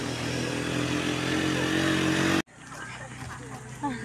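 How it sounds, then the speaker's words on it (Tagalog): A motorcycle roars loudly past at close range for a couple of seconds, then the engine noise cuts out abruptly, leaving quieter background sounds. "Oh, may motor!"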